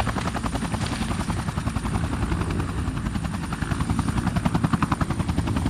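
A helicopter sets down on a croquet lawn at a country estate, its rotor chopping in a loud, steady rhythmic thud close by, with the engine whine running continuously underneath throughout.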